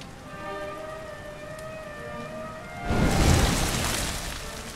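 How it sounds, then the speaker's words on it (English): Rain falls in a Dragon Quest XI S scene as a steady hiss, with a tonal, siren-like drone over it at first, then a louder surge of rain noise partway through. "Looks like the rain's dying down."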